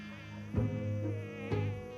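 Mosquitoes buzz steadily in a home at night, a continuous whining drone that swells slightly at two points, loud and close with no voices.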